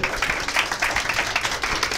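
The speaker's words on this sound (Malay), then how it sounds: "Satu tepukan untuk syarikat Elken." An audience claps in a brisk, irregular patter at a business event, moderately loud and close, with no voices over it.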